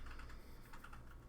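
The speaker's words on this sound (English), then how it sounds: "He's got a mechanical keyboard." A mechanical computer keyboard clacks faintly in a room with PCs, quick soft keystrokes in a short run against low background hum, with no one talking.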